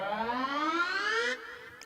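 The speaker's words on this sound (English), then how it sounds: "let's actually take one of these oscillators and let's pitch it down another octave" A synth oscillator riser, pitched down an octave, glides steadily upward as a bright buzzy tone for just over a second, then cuts off abruptly, leaving a faint tail.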